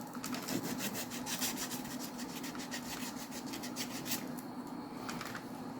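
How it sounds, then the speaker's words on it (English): Sandpaper rubbing back and forth on a small part of a Tyco Power Torque Baldwin RF-16 Sharknose HO scale model locomotive, close, rapid and steady scratchy strokes throughout with a faint hum underneath. "let me just clean this with my sandpaper"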